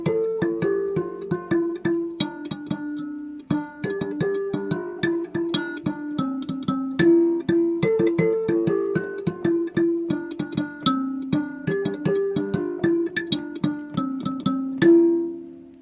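Nyunga mbira plays the basic variation of Mugarandega, a steady cycling pattern of bright plucked metal tines over a sustained, buzzy low resonance, continuous and close for the whole passage with no talking.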